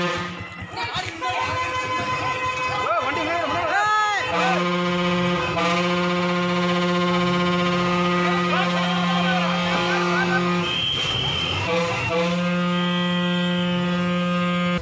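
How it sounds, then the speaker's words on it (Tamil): A lorry horn blared to chase away an elephant on a road: a loud, steady, long honk that drops out briefly and comes back, with muffled voices and traffic underneath. "லாரி ஓட்டுநர் ஹாரன் ஒலி எழுப்பி யானையை துரத்த முயற்சித்தும் பலன் இல்லை"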